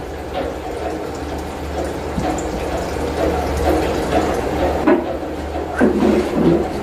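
Thinner is poured into a container while mixing car paint in a vehicle body repair workshop, a continuous splashing, trickling flow heard close, with a low steady hum underneath.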